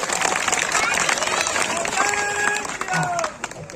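An audience at a poetry recital applauds loudly for a team of poets, a dense wash of clapping and crowd noise with voices rising over it.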